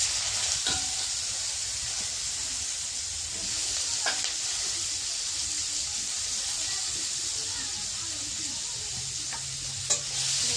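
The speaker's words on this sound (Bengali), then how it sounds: "আমি তেলের কড়াইতে আলুটা দিয়ে দিলাম, দিয়ে আমি একটু নাড়ছি" Potatoes frying in oil in a karahi wok while being stirred, a close, steady sizzle with occasional scraping knocks of the spoon against the pan.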